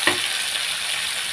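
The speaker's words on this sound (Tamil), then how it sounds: "இதை வதக்கிடுவோம்." A sharp burst as garlic, green chili and curry leaves hit hot oil, settling into a steady loud sizzle as they fry.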